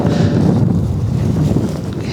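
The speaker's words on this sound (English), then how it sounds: "this wind keeps gusting away there, making it hard to get off" Wind gusts roar into the microphone outdoors at a radio-controlled wing suit parachute test, a loud continuous buffeting rumble with no pauses.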